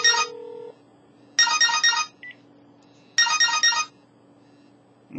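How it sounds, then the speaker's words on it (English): A cell phone resting on tin foil rings with a bright electronic ringtone, three loud bursts separated by short pauses, close and clear. "The cell phone's going to ring."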